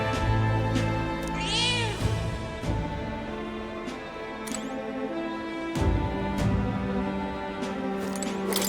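A cat meows repeatedly in the video game Metaphor: ReFantazio, several drawn-out meows including one rising wail, set against layered game music with no voices.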